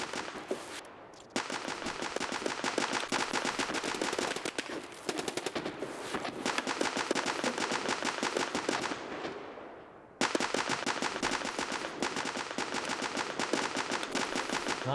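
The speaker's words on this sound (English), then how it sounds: "Somebody's on the grenade launcher." Grenade launcher firing in a video game: dense, rapid bursts of loud automatic reports, pausing briefly near the start and again around the middle before resuming.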